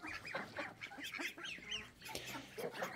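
Ducks and drakes in a farmyard pen call over one another in a dense, continuous chorus of honking quacks, close and fairly loud, with no talking.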